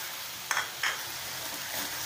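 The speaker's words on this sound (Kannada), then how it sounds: "ಸ್ವಲ್ಪ ಬಾಡಿಸ್ಕೋಬೇಕು ಅದು" Tomato added to potatoes and green chillies sautéing in a pan for masala upma gives a steady soft sizzle, broken by two brief scraping stirs near the start, close and quiet.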